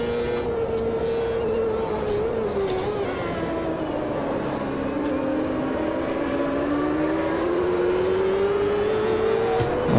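Race cars in the Automobilista 2 racing game drone steadily with a sustained engine tone that rises and falls through gear changes, continuous and fairly loud with no pauses.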